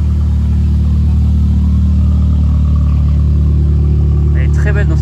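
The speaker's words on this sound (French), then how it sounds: "On a de la Seat qui part." A Seat car pulls away at an outdoor car gathering in Switzerland, its engine a loud, steady low rumble throughout. People talk over the engine sound.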